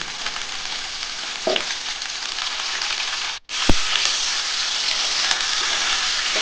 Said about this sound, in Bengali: দিয়ে ভালো করে একটু লাল লাল করে ফুলকপিটা ভেজে আমি তুলে নেব